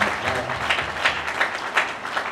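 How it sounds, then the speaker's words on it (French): A church congregation applauds during a homily at a perpetual profession Mass, a broad steady patter of many hands across the room, moderately loud with faint pulsing and no talk over it. "Applaudissez pour vous-même."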